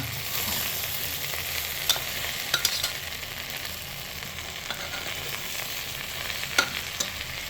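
Khichuri with added sugar is stirred in a pot over steady frying and sizzling, with scattered soft scrapes of the spoon against the pan.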